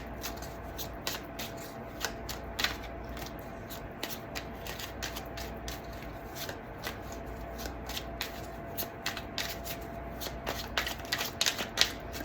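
Tarot cards shuffled by hand before a reading, a continuous close riffle of rapid papery flicks and taps running for several seconds, alone and fairly quiet.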